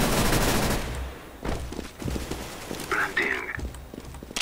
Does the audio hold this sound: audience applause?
no